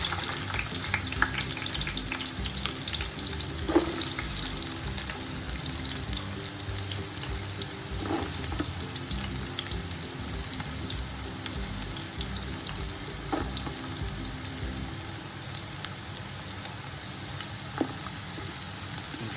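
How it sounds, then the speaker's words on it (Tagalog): Garlic sautéing in hot cooking oil for chicken Bicol Express, a steady close sizzle and fry that runs unbroken throughout, with occasional stirring clinks and no talk. "so gigisa na po natin ang ating bawang"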